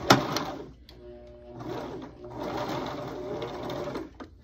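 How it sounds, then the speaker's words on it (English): A sewing machine stretch-stitching stretchy fabric for bell-bottom pants, running close in steady buzzing bursts that stop briefly and start again, with no talk. "So I'm going to stretch stitch."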